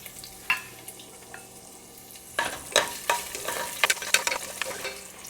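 Garlic sizzles in a hot pan, crackling and popping steadily, with occasional stirring scrapes growing busier toward the end.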